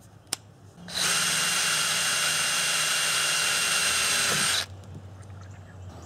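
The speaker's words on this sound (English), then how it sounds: "Really hard for it to drill, apparently." A power drill with an eighth-inch bit strains to bore a hole in a Toyota MR2 Spyder strut while a Koni Yellow insert is fitted, whining loud and close for about four steady seconds before stopping.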